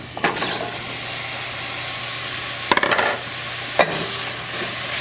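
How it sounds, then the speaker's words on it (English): Granny Smith apples go into melted butter in a saucepan over medium-high heat. A steady sizzling hiss is broken by a few sharp clattering thuds as the pieces land and shift in the pan. "Now I'll place my apples in."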